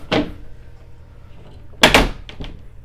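An aquarium stand door shuts with a knock, then after a quiet gap comes a sharper knock and a couple of quick rattling taps as it strikes a wire, close and fairly loud over a low hum.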